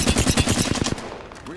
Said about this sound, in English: Here we see the Mastiff absolutely clearing up. It truly is a scary shotgun.